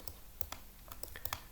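Keys tapped on a computer keyboard while entering a distance value during a LibreCAD drawing session: a quick, close run of light irregular clicks at low level.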